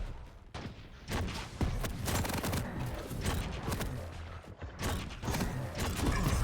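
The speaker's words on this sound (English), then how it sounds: "beautiful pop-up there into additional rockets" Rocket launcher rockets firing in a Quake Champions duel: a dense, loud barrage of repeated blasts and mechanical clatter with no pauses, close and continuous.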